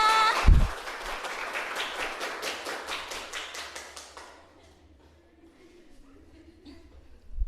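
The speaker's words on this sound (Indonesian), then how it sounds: "tepuk tangan buat kita semua" Vocational high school students applauding in class, a brisk burst of clapping with one sharp thump at the start, fading out after about four seconds into a quiet room.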